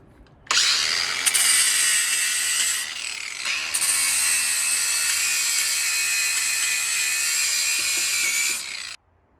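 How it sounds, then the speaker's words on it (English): Angle grinder with a flap disc sanding a steel front axle on a Suzuki Samurai, a loud, close, continuous high whine and grinding hiss that holds for about eight seconds, dipping briefly once, then cutting off. "I'm gonna sand along this line with my flapper disc"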